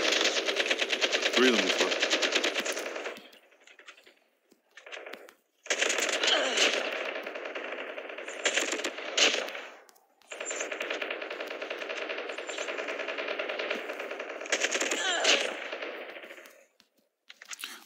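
AK assault rifle fire in Call of Duty Mobile comes in long sustained automatic bursts, loud and close, separated by short pauses, with a voice speaking briefly amid the shooting.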